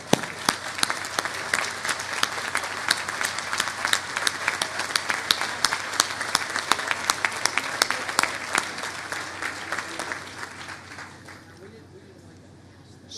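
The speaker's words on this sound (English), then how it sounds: "round of applause" A round of applause for elected officials under a tent at a rail line grand opening ceremony, steady crowd clapping with sharp individual claps throughout, fading out over the last couple of seconds.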